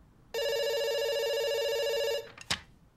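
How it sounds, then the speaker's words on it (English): An in-game telephone in Dr Langeskov rings with an electronic bell tone, one long continuous ring that stops abruptly, followed by a short click. "It's ringing."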